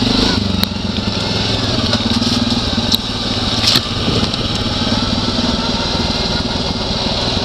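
A dirt bike engine drones steadily and loudly at moderate revs through the whole stretch while the rider cruises casually, with only slight throttle changes.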